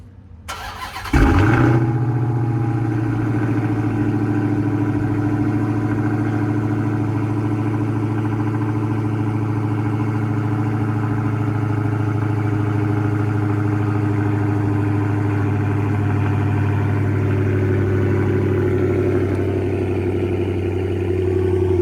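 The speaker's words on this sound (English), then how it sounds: "let me go ahead and give you guys a little cold start." A Dodge Charger Hellcat's supercharged engine fires up from cold with a sudden loud crank and roar, then settles into a steady, deep, rumbling idle that continues nearby for about twenty seconds.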